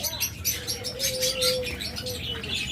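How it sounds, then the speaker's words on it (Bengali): Budgerigars, diamond doves, lovebirds and cockatiels at a bird farm chirp and tweet together in a dense, busy chorus, with overlapping calls and a few clearer whistled notes standing out nearby. "প্রচুর পরিমাণ ডায়মন্ড ডাব আছে আমাদের কাছে এবং আমাদের খামারে রয়েছে অসংখ্য পরিমাণ লাভবার্ড রয়েছে ককাটেল"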